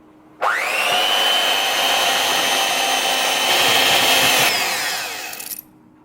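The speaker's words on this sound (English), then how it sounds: "and then back to the mixer" An electric mixer starts abruptly in banana bread batter, whirring at a loud, steady high-pitched whine for about five seconds before winding down and cutting off.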